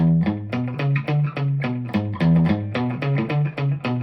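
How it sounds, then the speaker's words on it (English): A twangy electric guitar riff of short, bouncing syncopated notes over a steady low bass line, played clean and alone at moderate volume. "Whereas a country riff might sound like this."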